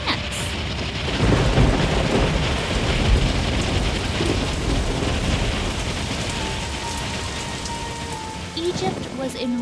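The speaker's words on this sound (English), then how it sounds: "God sent a plague of hail." A hailstorm sound effect with thunder: dense, steady pelting on surfaces with low rumbling thunder underneath. It stays loud and continuous throughout, with no speech.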